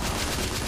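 Dense gunfire volley in The Order 1886, a brief loud burst of overlapping shots filling the whole moment, with no talk.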